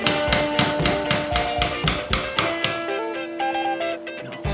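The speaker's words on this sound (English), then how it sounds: "I'll take my 1/8 inch roll pin punch and I'll punch the pin out." A pin punch is struck repeatedly to drive a roll pin out of a pistol frame, giving about a dozen sharp metallic taps in quick, even succession. Lighter clinks and scrapes of metal parts follow.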